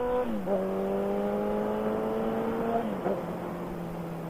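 A Kawasaki ZX14R motorcycle engine in cold weather gets a short throttle pull, its tone dropping and settling into a steady, smooth drone, then dipping again near the end, heard up close with no talking.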